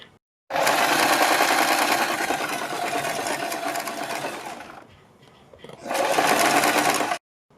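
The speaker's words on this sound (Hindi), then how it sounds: "यहाँ पर इस पट्टी के ऊपर हम सिलाई लगाएंगे चारों तरफ" A sewing machine runs steadily while stitching around a collar strip for a high-neck design, loud and close, slowing briefly near the end before a second short burst; no talk.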